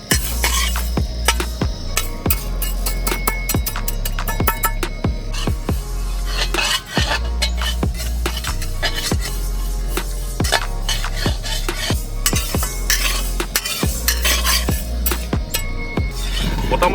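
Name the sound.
black lentils being fried and stirred in a kadai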